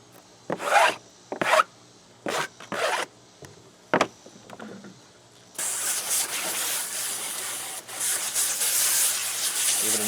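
A paint edger scrapes seeds off a microgreen tray, giving several short, close scraping strokes, then a longer, continuous rough scraping that builds and carries on to the end.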